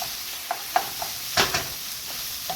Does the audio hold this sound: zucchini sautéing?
yes